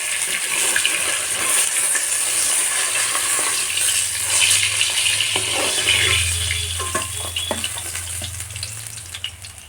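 Chital fish pieces fry in hot oil with a steady, dense crackling sizzle, close and loud, joined now and then by a few sharper spatters toward the end.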